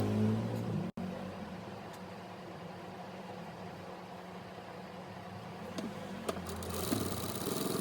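A sewing machine stitches lehenga fabric and lining in a steady mechanical whir that runs almost without a break, with a brief click near the start and a few small knocks later on.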